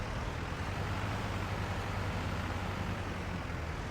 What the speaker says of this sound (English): So we hop on the tractor.